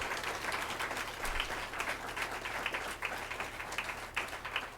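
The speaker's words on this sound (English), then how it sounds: "everybody, give them a round of applause" Audience applause for honored youth at a federal grant event, steady crowd clapping of moderate loudness with scattered sharper claps and a low hum beneath.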